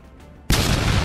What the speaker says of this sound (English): Cannon fire! Oh, boom!